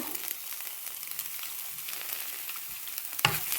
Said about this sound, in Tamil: நான் திறந்து பார்க்குறேன் கிளறி விடுவோம்